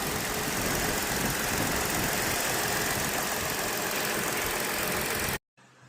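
A 2018 Ford Flex engine runs at idle under an open hood, a steady, even hum with a faint ticking texture, before the sound cuts off abruptly near the end.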